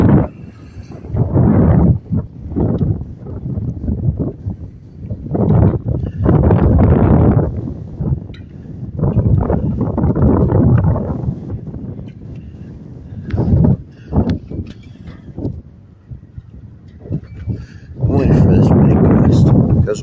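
Strong squall winds gust hard against the microphone in repeated roaring bursts, swelling and dropping over several seconds each, loud and close.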